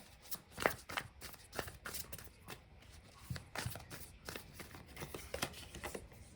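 Tarot cards are shuffled by hand at close range: quiet, repeated riffling and soft slapping in uneven bursts, with no other sound around them.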